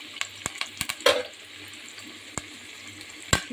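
Onion and curry leaves frying in hot oil in a pan, soft crackling and sizzling with sharp pops and clinks of stirring scattered through, close up and fairly quiet.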